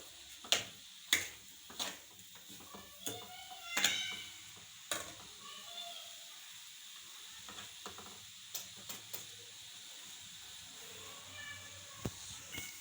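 A coconut, milk and sugar ladoo mixture roasts in a pan with a soft steady sizzle, punctuated by irregular clicks and scrapes of a spoon stirring against the metal, quiet and close.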